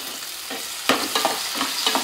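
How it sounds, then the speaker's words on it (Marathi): Browned onion and tomato fry for a black crab curry with a steady close sizzle, broken by a few scraping stirs of a spoon in the pan. "कांदा लाल झाला, टोमॅटो टाकला सगळा."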